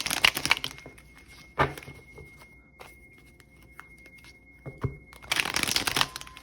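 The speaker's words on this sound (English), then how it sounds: "So I'm gonna shuffle about 2 more times." Tarot cards being shuffled in a few quick riffling bursts separated by quiet pauses, close and crisp, with no talk.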